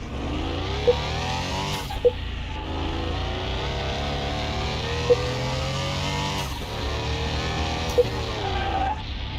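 Simulated car engine with a turbo wastegate in Car Mechanic Simulator 2021, a steady droning engine tone during a test drive, broken by several short sharp pops or chirps at intervals.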